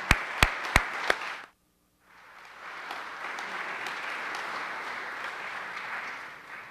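An audience at a Clinton School talk breaks into a round of applause after a few loud separate claps, pauses briefly, then keeps up steady moderate clapping.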